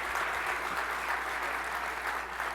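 A dinner audience gives a round of applause at a college award dinner, a dense, even burst of clapping from many hands filling the room for a couple of seconds.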